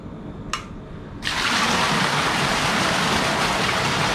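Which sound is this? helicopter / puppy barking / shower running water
shower running water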